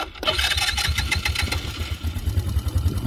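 A Quadzilla Spider 110 quad bike engine fires up after a brief crank, then settles into a steady, close, rumbling idle with a buzzy rhythmic pulse throughout.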